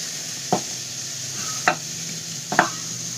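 Onion roasting in a pan as tomato is added, a steady soft sizzle broken by three distinct scraping stirs of a spoon, close and fairly quiet.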